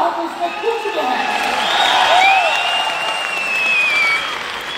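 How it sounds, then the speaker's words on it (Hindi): Audience applause swells and holds, with some whistling and cheering mixed in and voices underneath the clapping, at an IMC company policy presentation. "इतनी कम तालियां आप बजाएंगे"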